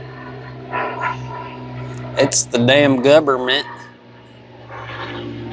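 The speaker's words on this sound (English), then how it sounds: "let's let this airplane pass over first." An airplane passes overhead as a low, steady drone beneath a man's speech.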